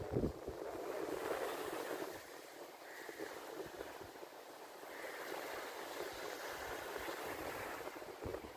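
Ocean waves wash onto a beach in Sri Lanka, a steady broadband rush of surf mixed with wind buffeting the microphone, swelling and easing over several seconds with no one speaking.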